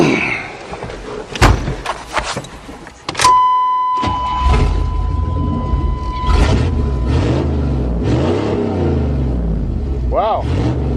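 A 1988 Chevy truck with an old motor and a new homemade exhaust: clicks and a door thump, then the engine catches and settles into a loud, steady rumbling run with a brief rev near the end.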